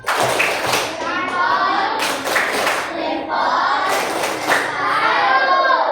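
Classroom of children performs a rhythmic group clapping chant, bursts of clapping and thumps alternating with children's voices calling out together, loud and close.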